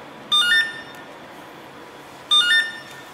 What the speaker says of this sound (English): If the card has been set as a user card, there will be a beep.